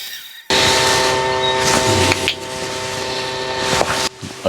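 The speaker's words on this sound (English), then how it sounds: "We're going to just run the bandsaw a little bit." A bandsaw runs steadily while cutting the lid of a small wooden ring box from its base, giving a loud continuous machine drone with sustained tonal hum and a brief dip near the end.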